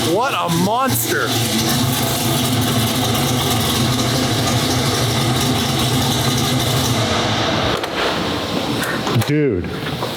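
Loud, steady low idle from a Venom F5 twin-turbo LS V8 at close range, framed by quick throttle blips at the start and near the end, with people talking.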